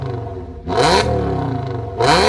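A naturally aspirated V10 petrol car engine revs sharply twice, each blip rising to a loud, high-pitched wail before dropping back to a rumbling idle, close and with no voices.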